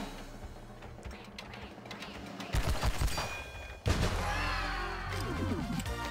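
Gunfire and blasts in the Mortal Kombat Mobile video game during a fighting sequence, a muffled clash at first, then heavier crashing bursts with swirling effects toward the end.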